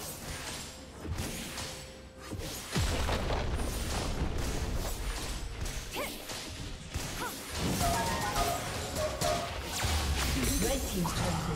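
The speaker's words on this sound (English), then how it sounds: "team's turret has been destroyed" Crashing, booming impacts as a turret is destroyed in League of Legends, set in a dense, loud game mix with whooshes and effects throughout, with voices talking over it.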